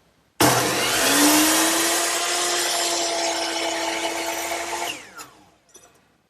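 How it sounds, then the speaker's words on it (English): A miter box saw slices through a piece of wood molding in one continuous, loud cut of about five seconds with a steady pitched whine, then stops abruptly as the blade winds down. "So to cut a piece of molding, I just slide it into place, and I'll make all my miters and fits"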